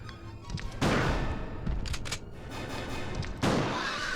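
Two sharp gunshots ring out in the video game Resident Evil 2, a few seconds apart, each a loud, sudden blast over a low, rumbling game background.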